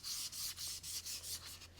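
Light hand sanding of lacquer coats on wood during a guitar fret holder build, a soft, close rhythmic rubbing in about seven quick back-and-forth strokes, faint and steady with no talking.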